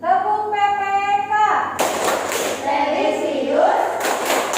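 Children perform the rhythmic Tepuk PPK clapping routine in a classroom, sharp hand claps and thumps in a steady pattern, with chanting voices before and around the claps.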